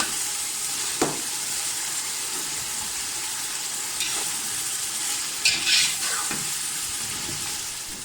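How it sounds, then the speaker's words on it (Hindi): Tomatoes and green chillies frying in a pan for vegetable rice give a loud, steady sizzle with an occasional stirring knock and a brief burst of spatter, no voices over it. "हम ऐड करेंगे इसमें टमाटर और सब्ज़ मिर्चें। तो हम इन सारी चीज़ों को अच्छी तरह से फ्राई कर लेंगे।"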